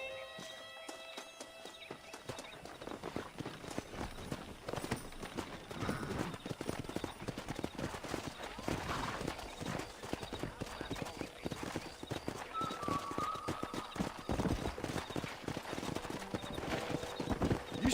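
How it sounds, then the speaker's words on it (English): Wild horses gallop through the Red Dead Redemption game world with steady, dense clip-clop hoofbeats across the whole stretch, a brief whinny rising over them midway, with ambient game sound filling the background. "That ranch hand said there's a pack of wild horses nearby."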